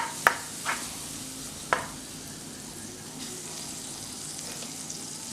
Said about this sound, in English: So I have taken a pan and I'm going to add some butter.